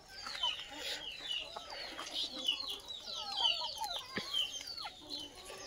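Rain-soaked free-range village chickens cluck and chatter softly in a busy flock, with small birds chirping in the background and no talking.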